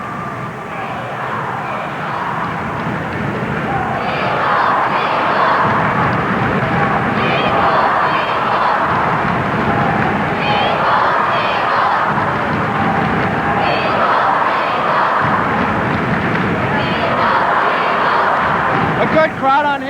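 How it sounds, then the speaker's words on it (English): A roaring crowd at a 1991 high school basketball game between Martinsburg and Hedgesville swells and stays loud for the whole stretch while a commentator talks over it. "The crowd is going crazy."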